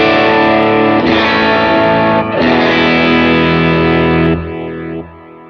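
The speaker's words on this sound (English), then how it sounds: "I love this tape delay, it sounds so good." Electric guitar through a Line 6 Helix tape delay effect: sustained, heavily processed chords with a wide, echoing trail. A few chord changes ring out loudly, then fade into soft delay repeats at the end, with no talking.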